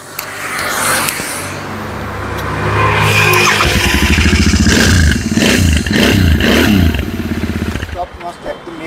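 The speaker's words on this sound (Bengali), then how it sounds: "কোম্পানি যেমন ইঞ্জিনের সাউন্ড হয় নতুন গাড়িতে, সেম সাউন্ড" A Royal Enfield Continental GT 650 twin engine runs and is blipped, throttle pulses giving rhythmic loud roars and clatter, with someone talking over it at first.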